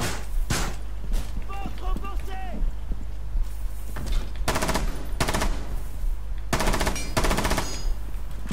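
Submachine gun fire in Rainbow Six Siege, several loud close bursts of rapid automatic shots with gaps between them, over game ambience and a voice speaking in between.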